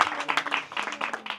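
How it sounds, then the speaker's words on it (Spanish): Brief, fairly quiet burst of audience clapping, irregular and close, with no speech over it. "No me salvé del aplauso."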